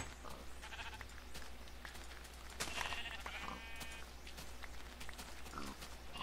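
Sheep in the game Minecraft bleating a few times, fairly faint over a low background hum, with a louder bleat near the middle.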